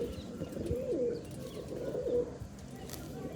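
Pigeons kept in pairs coo in low, throaty rolls, two clear calls rising over a steady background murmur.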